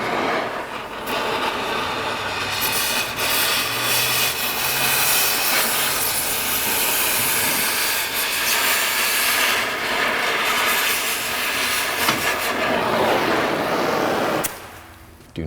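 Cutting a car coil spring during a Fox Body K-member install, a harsh continuous grinding screech that runs loud and steady, then stops near the end.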